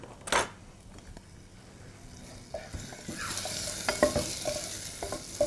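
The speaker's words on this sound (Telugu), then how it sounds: "కొంచెం సన్నగా తరుక్కున్న వెల్లుల్లిపాయలు, దీన్ని కొంచెం ఫ్రై చేసేసుకున్నాం మనం" Thinly chopped garlic fries in butter in a pan, with a soft sizzle that grows louder as it is stirred, alongside light scraping and utensil clinks close up.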